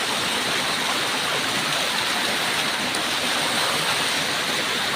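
Steady, dense roar of a remote forest waterfall with rushing cascading water, continuous and loud throughout with no voices.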